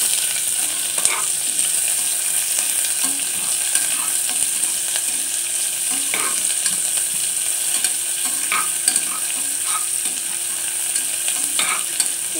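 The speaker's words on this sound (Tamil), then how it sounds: "வெங்காயம் போட்டுடலாம்." Onions fry in a pan for egg biryani, a steady close sizzle with occasional stirring knocks and scrapes, with no talking.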